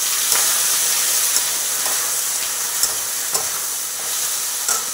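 Onion, tomato and chicken fry in a pan with a continuous loud sizzle and hiss, broken now and then by faint stirring scrapes.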